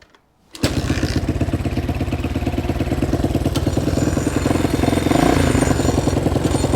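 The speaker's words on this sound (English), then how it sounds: "We have to resolve this rattle." A Honda XL185S motorcycle that was left sitting idles with a loud, steady engine rattle. The engine starts abruptly after a brief quiet moment, then runs continuously up close with a rapid, even knocking pulse.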